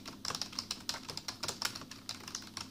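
Keys clatter on a Lenovo Calliope USB keyboard with a plasticky feel, a quick irregular run of light, crisp keystrokes heard up close and alone.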